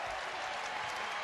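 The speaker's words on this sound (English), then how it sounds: "the Gamble crowd comes to their feet to salute their Huskies" A home arena crowd at a college basketball game applauds the home team, a dense, steady wash of clapping with no break, heard at a fair distance.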